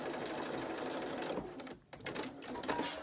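A sewing machine stitches a fabric face mask with rapid, rattling needle strokes at close range, pausing briefly in the middle before starting again, with no voices.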